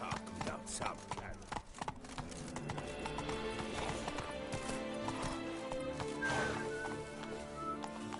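Horse hooves clip-clopping in The Witcher 3 video game, a steady rhythmic trot under game music with a brief whinny and a faint voice.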